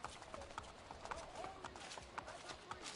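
Horses gallop in Assassin's Creed Brotherhood, a quick, uneven clatter of hoofbeats running steadily at moderate volume with a busy background.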